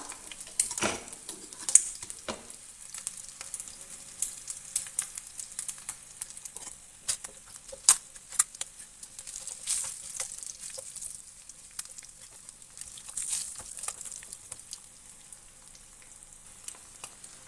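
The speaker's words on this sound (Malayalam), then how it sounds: "രണ്ട് വശവും ഒന്ന് നന്നായി ഒന്ന് ഫ്രൈ ചെയ്തെടുക്കാം" Eggs frying in a pan with masala, a steady soft sizzle and crackle running throughout with occasional sharper spits and scrapes of a utensil against the pan, close and fairly quiet.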